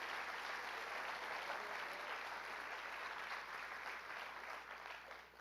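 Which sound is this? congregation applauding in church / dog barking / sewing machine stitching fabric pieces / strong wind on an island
congregation applauding in church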